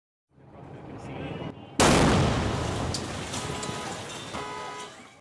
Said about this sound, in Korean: 굉음을 내며 갑자기 폭발한 트럭